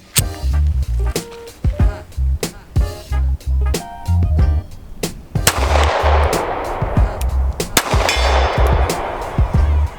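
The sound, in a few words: gunshots from a CZ P-10 C pistol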